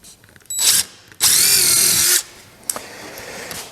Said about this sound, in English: Now I'm going to drill a hole right through the center of each one of these.